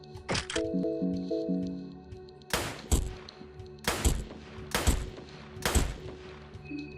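Several sharp gunshots in the video game Fear & Hunger 2 ring out, spaced about a second apart, loud and close, with soft mechanical clicks between them.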